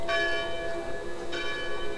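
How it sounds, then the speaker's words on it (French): A church bell in Assassin's Creed tolls twice, each strike ringing out with a bright, shimmering tone that decays slowly, clear and alone with no speech over it. "c'est genre le bruit de cloche, c'est naturel quoi"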